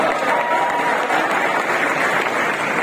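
Audience applause in a concert hall at a classical music festival in Lahore, greeting a famous ghazal, a continuous wash of clapping from a crowd.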